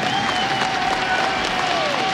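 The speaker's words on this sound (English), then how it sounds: "I want a massive round of applause, not just for Olof, not just for Fnatic, but for VP as well." Large arena crowd at an ESL Cologne Counter-Strike semifinal applauding with cheers, a dense, steady roar of clapping sustained loudly throughout, with a faint tonal whistle or voice running beneath.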